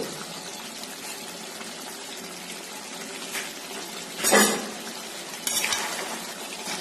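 Chicken frying in a pan: a continuous broadband sizzle holds steady throughout, with two louder bursts of sputter and stirring near the end, close and without talking.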